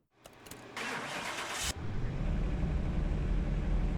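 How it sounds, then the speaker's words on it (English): A Jaguar engine in the Car Mechanic Simulator game cranks briefly with a bright whirring starter, then catches and settles into a loud, steady low rumble at idle. "Oh, that's a lovely sounding engine. Thank you, Jaguar, for a beautiful engine."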